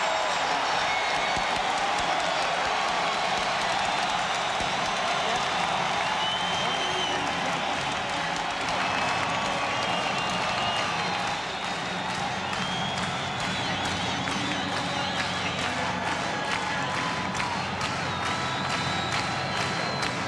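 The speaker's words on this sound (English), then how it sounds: "all of a sudden the crowd's back in it here at the Hemisphere" Arena crowd at the Hemisphere during a 1993 Spurs versus Blazers NBA playoff basketball game, cheering and applauding in a sustained roar, with a commentator's voice running faintly underneath.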